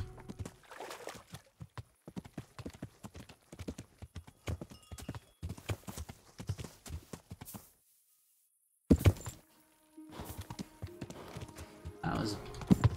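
Horse hooves clip-clop in Kingdom Come: Deliverance as a rapid, irregular run of hollow thuds. A short silent gap breaks the sequence, and it then resumes with a few louder knocks and game sounds.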